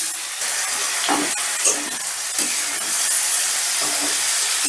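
Chopped tomatoes and chillies hit hot oil in a pan for paneer do pyaza, giving a loud continuous sizzle and hiss with soft clinks of stirring, close by and with no voices over it.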